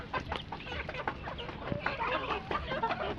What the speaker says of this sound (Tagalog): iba-ibang lahi manok.